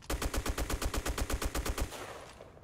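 A Type95 rifle in Black Squad fires a rapid full-auto burst of about fifteen evenly spaced loud gunshots, then trails off in a short echo.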